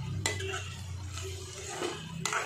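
A spoon scrapes and clinks against a metal pot while spiced taro root curry with coriander is stirred, producing steady close scraping with a couple of sharper knocks over a low background hum.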